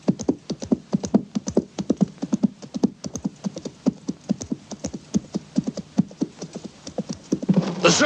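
Horses' hooves clip-clopping on hard ground in a western gunfight setting, a brisk irregular run of close, distinct hoofbeats that grows denser and louder near the end.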